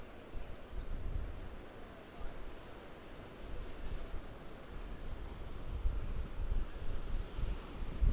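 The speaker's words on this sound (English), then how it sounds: "The wind is nice and warm up here." Warm summer breeze blowing across an ocean beach with surf, a steady broadband rush of wind and waves that swells and eases slightly throughout, with no voices.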